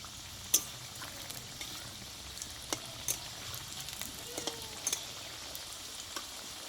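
Tiffin snacks fry in oil in a pan with a soft, steady sizzle broken by scattered sharp pops and small clicks, heard close and fairly quiet.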